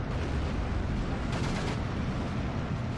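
Heavy artillery fire rumbles and booms continuously in the video game Steel Division 2, a dense wall of overlapping blasts and low thunder with a brief brighter crackle of impacts midway.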